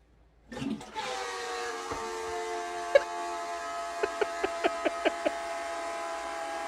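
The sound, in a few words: toilet making a strange noise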